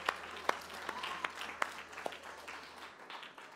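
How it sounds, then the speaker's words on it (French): A small audience at a Christmas sweater evening claps in faint, scattered applause, a few sharper individual claps standing out before the sound thins and fades. "j'aimerais qu'on les applaudisse"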